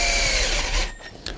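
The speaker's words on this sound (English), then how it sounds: "So you drill it straight up the back of the corn" A power drill bores into the back of an ear of corn in a garden setting, giving a loud, steady whirring grind that eases off toward the end with a brief final burst.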